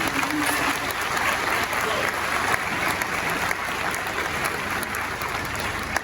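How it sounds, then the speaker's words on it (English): Sustained audience applause for Ghana's President at a formal address, dense steady clapping from a large crowd filling the whole stretch without a break. "Ladies and gentlemen, the President deserves a resounding applause and please join me."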